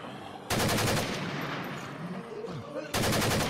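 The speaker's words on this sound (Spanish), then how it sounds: "Van a oír disparos, pero no son hacia ustedes." Gunfire in a tense standoff: two bursts of rapid automatic shots, loud and close, with a short gap between them filled by lower shouting and commotion.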